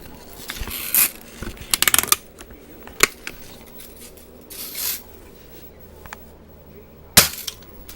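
A Red Ryder BB gun fires several sharp, dry snaps at irregular intervals, the loudest near the start and end, with faint rustling and handling noise in between and no voices.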